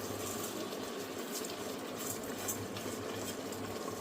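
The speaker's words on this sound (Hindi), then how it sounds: "ये जो दाल और चावल धोया था मैंने, इसको डाल रही हूँ। अभी इसको भी मैं भुनूंगी।" Washed dal and rice sizzle and crackle as they roast in masala in a pan, a steady quiet frying hiss with faint stirring.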